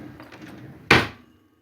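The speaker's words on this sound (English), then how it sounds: "So it's not really very nice every time you shut the drawer." A 450 mm kitchen drawer without soft close slamming shut, one loud sharp wooden thunk after faint rattling, then a quick fade to silence.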